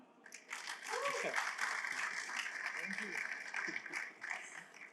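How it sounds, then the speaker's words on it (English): A startup gameshow audience claps through a full round of applause with a single whoop rising out of the crowd, steady and moderate, with voices talking underneath. "Round of applause"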